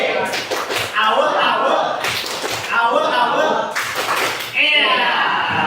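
A classroom group performs the rhythmic tepuk semangat clap, with bursts of clapping in a patterned beat repeated several times, mixed with voices chanting along in a lively indoor setting.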